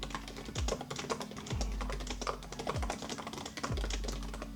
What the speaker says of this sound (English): Let's see how fast I can type this out.